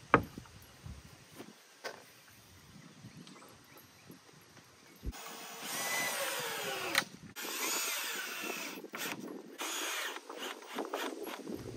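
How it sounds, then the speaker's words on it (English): Power drill driving 2-inch screws into the pallet-wood side of a DIY bar, heard as a few short bursts early on, then a longer, louder stretch of whirring with brief pauses. "Make sure the side is square with the front and then screw in 3 2-inch screws"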